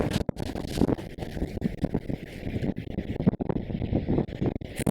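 Wind blowing outdoors in nature, a steady rough rush buffeting the microphone with gusty swells and a few soft thumps, no voices.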